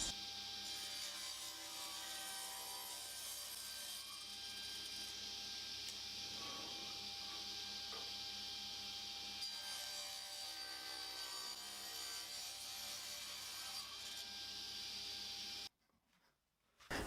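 A timber table top being cut to size in a woodworking shop: a loud, steady, hissing machine cut that runs unbroken for about fifteen seconds, then cuts off abruptly before a brief restart.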